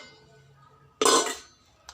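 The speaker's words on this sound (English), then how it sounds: "Now take the idli vessels." Metal idli steamer vessels handled in a home kitchen, a single sharp clattering clink of metal on metal after a quiet pause, followed by a brief softer tap.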